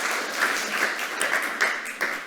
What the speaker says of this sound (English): Big applause to Saiveer.